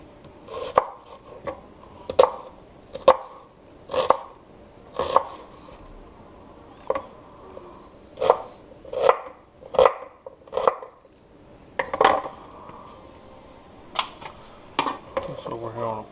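Onion being peeled and cut on a board in a home kitchen while a Polynesian dinner is prepared: a series of sharp, close knife taps, some in quick pairs, spaced irregularly with short pauses, and no voices.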